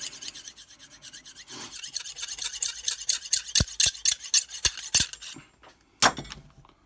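A knife blade is drawn across the hone of a clamped Lansky sharpening system in a series of close, rhythmic rasping strokes, ending with a few sharp metallic taps.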